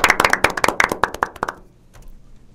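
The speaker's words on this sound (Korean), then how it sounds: "네, 박수." An audience at a live talk and music show claps in a quick run of sharp, distinct hand claps that stops after about a second and a half, leaving near silence.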